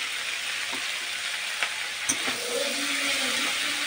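Goat liver sautéing with crushed black pepper, cardamom and garam masala in a pan, a soft continuous sizzle broken by a few sharp spoon taps and scrapes, close and with no talk.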